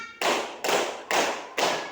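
Schoolchildren in a classroom clap together in a steady counted beat, four crisp, loud claps evenly spaced, each fading quickly before the next one lands.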